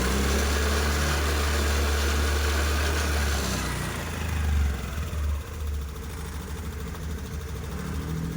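A Honda Activa FI scooter engine, fitted with a new coil, runs loud and close, holding a steady high rev before dropping back to a rougher, lower idle.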